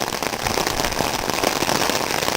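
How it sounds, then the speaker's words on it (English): A downpour of very hard rain roars steadily close by, a thick, unbroken wash of splashing and crackling drops. "But definitely raining very, very hard now."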